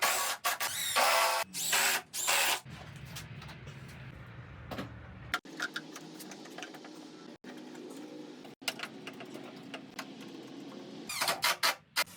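A power drill driving into 2x4 lumber on a small shop workbench, heard as short loud bursts early on, then quieter steady mechanical whirring and handling noises with brief clicks.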